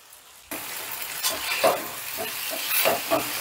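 Cornflour slurry is stirred into sizzling suji chaat in a hot pan, with a sudden loud hiss followed by scraping stirs and steady frying.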